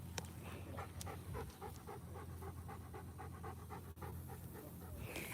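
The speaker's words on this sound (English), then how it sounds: "see another doggy" A dog panting in quick, steady breaths close by, continuous and fairly quiet with no talk over it.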